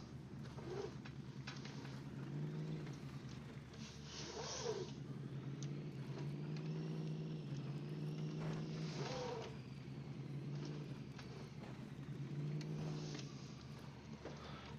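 A rock truck engine in a mud-map driving video game drones and revs in repeated swells, a low steady rumble with periodic rises in pitch, continuous and unaccompanied by talk.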